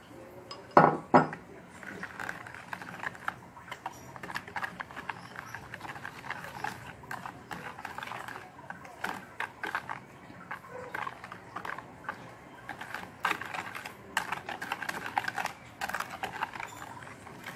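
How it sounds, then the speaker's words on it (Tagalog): Eggs being whisked one at a time into brownie batter: a steady, fairly quiet clatter of a utensil scraping and tapping a bowl, continuous over several seconds, with a few louder clinks near the start. "One at a time po ang paghalo ng egg."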